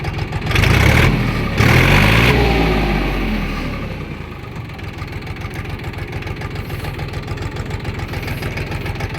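A Kentavr 244SX mini tractor with a KM385VT diesel engine, freshly run in and warmed up, roars loudly at first, then settles into a steady, even idle clatter heard up close without talk.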